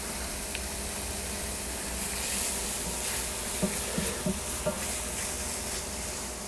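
Garlic sizzling in a hot pan for shrimp pasta, a steady frying hiss with a few soft scraping stirs near the end.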